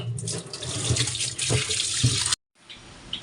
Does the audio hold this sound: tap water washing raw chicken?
yes